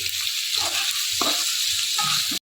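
Onions browning in a pan for pulao and chicken kosha give a steady close sizzle with brief stirring scrapes, fairly loud and continuous with no voices.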